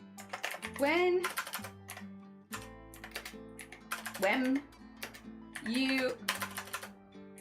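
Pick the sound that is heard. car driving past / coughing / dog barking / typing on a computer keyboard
typing on a computer keyboard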